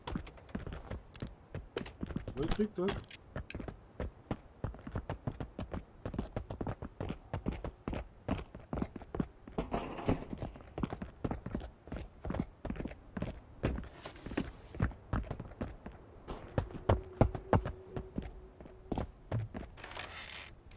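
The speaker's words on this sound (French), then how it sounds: "Il y a un mec pas loin, j'entends ce bruit de pas." Footsteps of a nearby player in the video game Marauders, a steady run of close, sharp clicks and thuds repeating through the whole stretch, with a brief voice speaking once.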